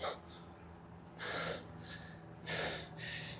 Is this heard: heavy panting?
yes